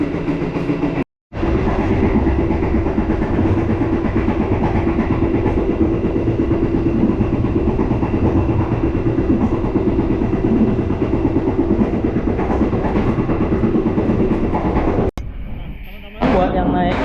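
Inside a Sawunggalih passenger train carriage running on rails, a steady loud rumble and roar of wheels fills the cabin continuously, briefly cut out near the start and changing near the end.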